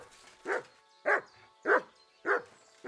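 A dog in the medieval game Kingdom Come Deliverance 2 barks five times at a steady, even pace, each bark a single clear woof with short quiet gaps between, moderately close and heard alone.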